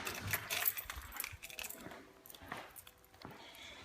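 Keys jangling near a vehicle on a lift, faint metallic rattles and clinks in short irregular bursts, close by with no talking.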